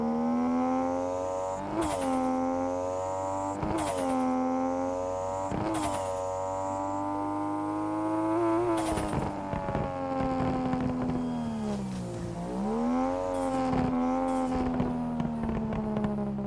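A car engine drones and strains, its pitch rising and dipping repeatedly with sharp clunks as it struggles between gears.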